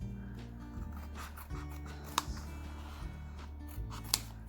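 Scissors cut by hand through faux leather for a bow along a traced line, with a steady series of close, quiet snipping and crunching strokes and a couple of sharper clicks.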